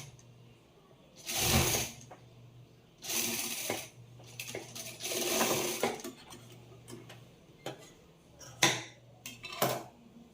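A sewing machine stitches blouse lining in several short bursts of close mechanical clatter, separated by quiet pauses, with light handling noises between runs.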